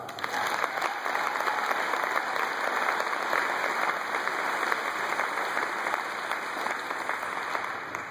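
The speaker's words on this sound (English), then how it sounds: "give yourselves a round of applause" An audience at a Relay for Life cancer-society fundraising event applauds steadily, a dense, continuous wash of clapping that holds at an even level with no voices rising above it.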